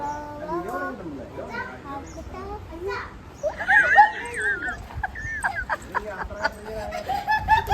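A dog whimpering and yipping nearby in high, wavering whines and short barks, mixed with children's voices talking and playing throughout.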